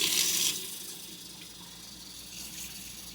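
Beeswax being rinsed under running water gives a brief loud gush from the tap in the first half-second, then settles into a faint, steady trickle.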